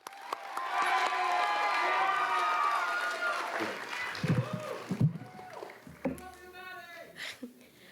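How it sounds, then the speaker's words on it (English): An audience at a school writers' event claps and cheers for a student reader, a loud sustained burst of applause and shouts that fades after a few seconds into scattered voices and talking. "Give a round of applause"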